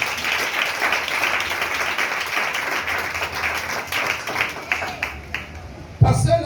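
A church congregation applauding and cheering for the Lord: sustained crowd clapping mixed with voices, steady throughout, ending with a sharp louder sound.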